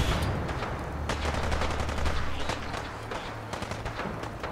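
Rapid, sharp laser weapon fire from the Fallout 4 Far Harbor video game, a dense stream of close shots over a constant low rumble.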